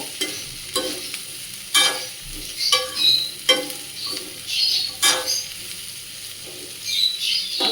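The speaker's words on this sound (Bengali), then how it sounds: "এটা ঢেকে ঢেকে ভেজে নেবো" Chopped raw papaya with salt fries over a low flame in a pan, stirred with repeated scraping strokes roughly every second over a light sizzle, close and fairly loud, with no talking.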